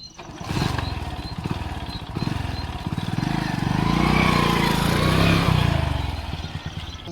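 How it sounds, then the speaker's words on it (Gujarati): A motorcycle comes closer, its engine note rising and swelling from a rough idle to a louder, fuller drone. No one talks over it. "એટલે આ બાઈક તો આવ્યો"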